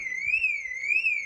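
Car alarm in a driving roleplay video game, a loud electronic wail sweeping steadily up and down in pitch, sounding alone and close.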